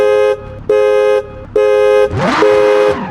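Car alarm in the BeamNG driving game, sounding three steady electronic horn-like blasts with short gaps, then a rising and falling siren sweep; loud and close with no talk.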